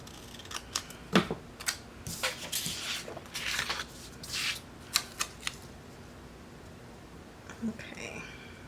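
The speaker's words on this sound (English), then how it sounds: "Let's get the bigger scissors." Large scissors cut paper for a planner spread in a run of crisp, sharp snips and slicing strokes, close by, mixed with paper rustling and handling noises.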